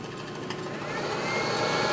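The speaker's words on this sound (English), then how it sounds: "I need to have the heat gun, so I take my heating hot air" A hot air heat gun, used to warm an iPhone Lightning cable during repair, blows with a steady broadband roar that holds evenly for about two seconds, close up and alone with no voices.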